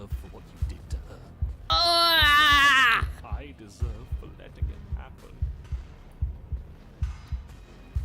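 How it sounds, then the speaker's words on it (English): Erratic heartbeat sound effect from Slay the Princess: deep, close thuds beating in an uneven, quickening rhythm throughout, briefly overlapped by a loud strained vocal cry and other faint game sounds. "The erratic heartbeat"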